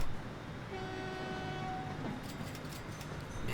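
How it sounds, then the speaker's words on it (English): A train runs in the railway-building game Train Fever, a steady rumbling roll with a sustained horn tone near the start that fades out, then light clicks over the continuing drone. "Man, this thing is an awesome train."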